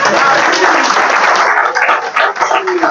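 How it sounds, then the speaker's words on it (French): A crowd applauds in a dense, continuous wash of clapping that stays loud and close throughout, thinning and wavering slightly toward the end. "Applaudissez-moi ça"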